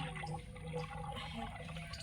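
Water gushing out of a borewell pipe under pressure, making a steady, continuous rushing and splashing noise at moderate, even loudness throughout, with no talking.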